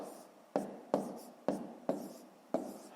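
Pen or chalk strokes writing the numbers of a long division problem, five sharp taps spaced about half a second apart over a faint background hiss, close and moderately quiet.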